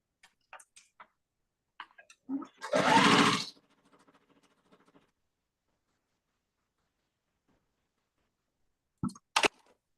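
A sewing machine stitching a quilt block runs in one short, dense burst of about a second amid scattered faint clicks and handling taps, with a couple of sharp clacks near the end.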